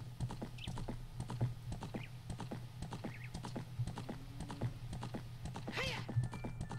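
Pony hooves clip-clopping in the video game Zelda Ocarina of Time, a steady, even trot of sharp taps with a low game hum underneath and a brief chime near the end.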